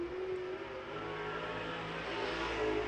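IMCA modified race cars roar around a dirt oval during a heat race, a steady, loud engine drone that swells slightly toward the end, with no voices.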